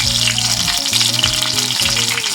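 Chicken pieces fry in a pan with steady, loud crackling and sizzling that runs unbroken and close, with no one speaking over it.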